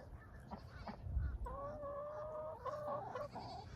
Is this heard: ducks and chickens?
yes